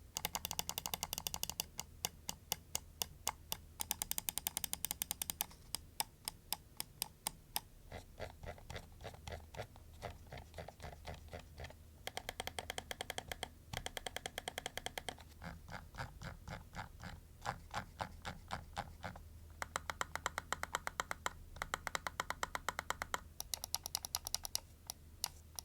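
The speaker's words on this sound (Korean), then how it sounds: "스위치도 마찬가지로 더블 클릭 문제가 없는 광학 스위치가 들어갔습니다. 일단 소리 한번 바로 들려드릴게요." Rapid, crisp clicks from the optical switches of a Rapoo VT7 Air MAX V2 gaming mouse, fired in fast bursts and steady runs of close, sharp ticks with brief pauses, heard alone without talk.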